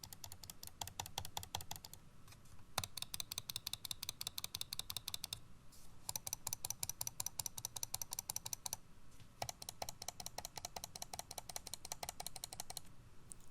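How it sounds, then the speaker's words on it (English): Computer mice, including an Aula SC800 gaming mouse, clicked rapidly one after another to compare loudness: crisp, close, dense bursts of clicks separated by short pauses, with no talking. "the purpose of that clicking for all the mice, is just so that you are able to kind of get an idea of how loud the clicks are going to be"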